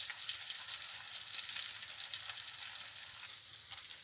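Meat pastels wrapped in brick pastry fry in hot oil, giving a steady, dense sizzle with constant crackle that runs close and unbroken throughout, with no voices over it.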